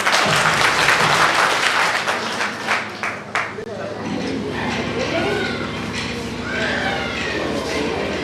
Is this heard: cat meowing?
no